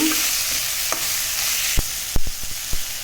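Tomatoes and onions sautéing in a pan, a steady broadband sizzle with several sharp scrapes and knocks of a spoon stirring near the end, heard alone without talk.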